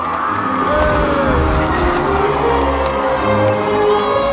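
Crowd cheering and shouting at a Quidditch match in a Harry Potter film, a loud, dense wash of voices with whoops rising over a steady roar, close and continuous throughout.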